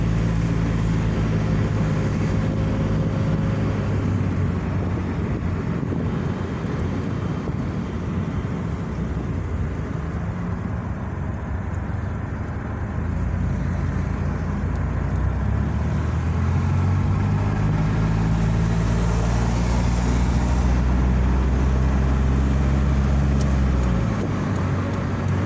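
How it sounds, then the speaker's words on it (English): A Chevrolet HHR with a bad exhaust system drives past, giving a loud, continuous low rumble with shifting engine tones and road noise throughout, with no talking. "HHR with a bad exhaust system."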